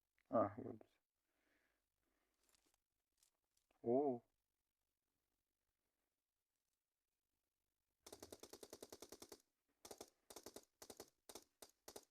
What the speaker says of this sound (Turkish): Başkadan sıkıyorlar ya. Evin içinden.